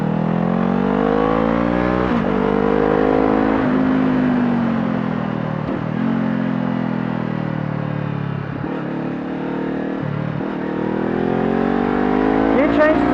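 A Honda CBR 500 motorcycle on a racetrack, its engine note rising and falling as it accelerates and shifts gears, heard close up and continuous with some wind noise.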